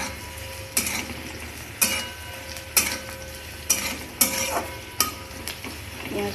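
Bay leaf and onion fry in hot oil in a pan, a low steady sizzle broken by regular, sharp stirring scrapes about once a second, with no one talking.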